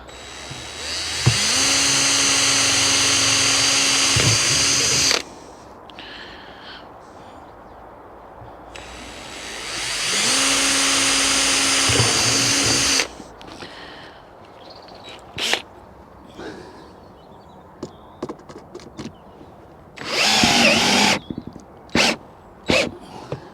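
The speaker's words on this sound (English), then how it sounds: "And there I'm going to drill through and screw from underneath." A cordless power drill bores through for screws on a homemade carrot hoop house build outdoors, two sustained whining bursts of about four seconds each, separated by quiet handling clicks, with a shorter burst later.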